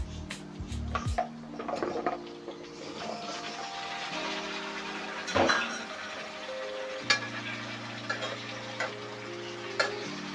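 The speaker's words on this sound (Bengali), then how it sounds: "মরিচ পেঁয়াজটা অনেকটা লাল লাল হয়ে গেছে এখন আমি এটাকে মিষ্টি কুমড়া ঢেলে দেব" Sweet pumpkin is poured into reddened fried chili and onions and stirred, a soft sizzle punctuated by sporadic ticking spatula knocks over a low steady hum.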